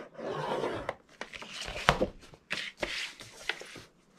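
Scoring fold lines into plastic sandwich-bag craft material with a scoring tool: a series of short, close scraping strokes, some sharper clicks between them, with quiet gaps.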